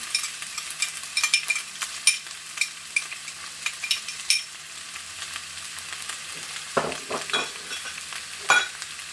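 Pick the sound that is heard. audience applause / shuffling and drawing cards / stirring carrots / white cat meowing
stirring carrots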